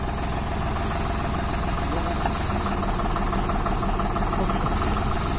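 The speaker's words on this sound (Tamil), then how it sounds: "டிராக்டர் வந்து ஐடியல் ஆர்பிஎம்மில் தாங்க ரன் ஆகிட்டு இருக்கு." A tractor engine idles with a constant, dense rumble and mechanical chatter, close by and unchanging throughout.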